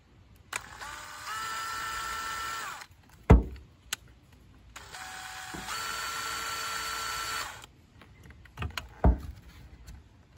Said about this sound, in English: Just wanted to show the cable chucked up in the drill